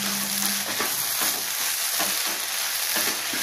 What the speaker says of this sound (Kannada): ಕಾಯಿ ತುರಿ ಹಾಕ್ತಾ ಇದ್ದೀನಿ ನಾನು ಲಾಸ್ಟಲ್ಲಿ, ಸ್ವಲ್ಪ ಫ್ರೈ ಮಾಡ್ಕೊಳ್ಳೋಣ